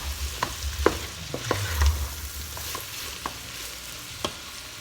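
Crushed garlic sizzles softly in hot oil in a pan, a low steady hiss punctuated by several sharp spatters and pops, close and fairly quiet, with no speech.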